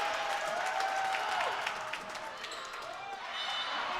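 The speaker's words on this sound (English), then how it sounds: "And here comes the Holt Fieldhouse crowd." A home crowd in the Holt Fieldhouse cheers and applauds during a college volleyball match between Carson-Newman and Catawba, a steady roar of voices and clapping that continues while a commentator talks over it.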